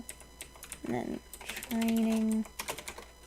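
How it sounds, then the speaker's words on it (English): Soft, rapid keyboard clacking runs beneath a man's quiet speech, broken by a brief steady electronic tone partway through. "my keyboard does sound pretty great"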